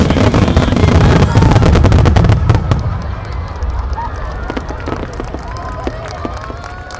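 Opening fireworks at the 2015 Yatsushiro national fireworks competition crackle and boom in dense, rapid volleys, loud at first and then thinning into scattered pops and fizzing crackles, with a crowd murmuring underneath.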